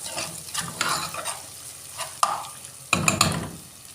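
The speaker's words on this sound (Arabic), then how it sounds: "هجيب بقى دلوقتي الكزبره الناشفه واحطها على طول مع الثوم" Garlic fries with dried coriander in a pan, giving a steady close sizzle broken by louder scraping bursts as the mixture is stirred.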